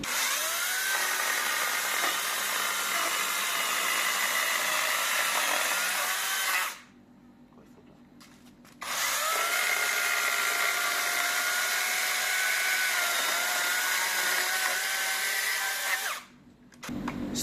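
A chainsaw with an automatically oiled chain cuts into trees. It runs as a loud, sustained high whine for several seconds, drops to a low idle, then roars again for a long second cut before idling once more.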